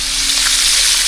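Good-sized tilapia fish, heads removed, fry in a pan with a loud, steady hiss and crackle of oil. The sizzle is close and continuous, with no talking.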